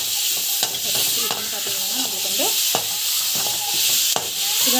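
Tomato sauce fries in a pan while a spoon stirs it, with a steady low sizzle broken by regular scraping strokes and sharp clicks against the pan, close and without talk.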